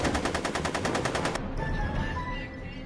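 Rapid gunfire in the Back to the Future video game: a fast regular burst of shots for over a second, then a lower rumble with faint electronic tones.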